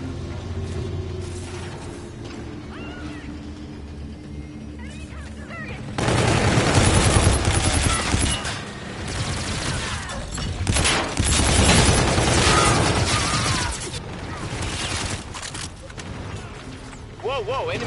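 Rapid automatic gunfire and explosive bursts from a futuristic multiplayer shooter, Call of Duty: Infinite Warfare, swell loudly from about six seconds onward over quieter game sounds, with a voice talking intermittently.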